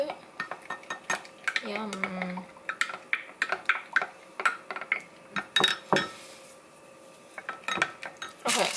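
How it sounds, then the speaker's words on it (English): Butter is stirred in a bowl with metal utensils, producing a run of close, sharp clinks and scrapes at an irregular pace, with a brief murmur of a voice partway through. "And I'm mixing the butter to let it cool a little bit."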